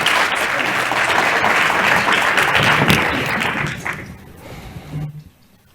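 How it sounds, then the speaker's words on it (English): An audience at a cities-finance panel discussion gives a round of applause, loud and dense at first, then thinning into scattered claps that die away to near silence. "Let us give our panel a huge round of applause"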